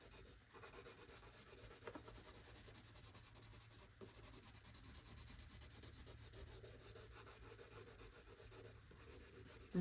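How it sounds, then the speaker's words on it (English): Pencil graphite is scribbled back and forth over traced lines on paper, a quiet continuous scratchy rubbing with a few short pauses, close and alone. "You just want to scribble, scribble, scribble over the lines."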